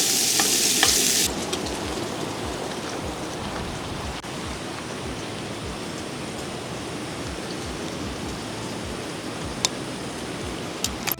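Bacon seasoned with a blackened steak blend frying in a pan, giving a dense, steady sizzle with crackle close by, louder and brighter hiss in the opening second, then an even, continuous fry.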